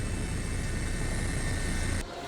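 A helicopter flies over a flood-damaged disaster area in Aceh, its engine and rotor making a loud, steady, close drone that drops slightly in level near the end.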